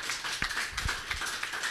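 Church congregation clapping together during a service, a fairly close, even patter of many hands with a few sharper individual claps and no talking.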